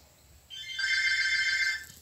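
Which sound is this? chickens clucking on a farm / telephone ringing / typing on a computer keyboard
telephone ringing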